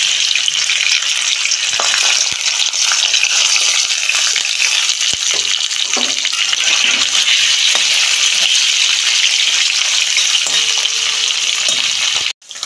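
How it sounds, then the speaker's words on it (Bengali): Paneer pieces hit hot oil in a wok, setting off a loud, continuous hissing sizzle that holds steady for several seconds close up, then cuts off abruptly, with no talk. "তেল গরম হয়ে গেছে, আমি পনিরটা দিয়ে দিচ্ছি।"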